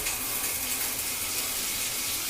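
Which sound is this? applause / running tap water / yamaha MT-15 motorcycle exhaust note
running tap water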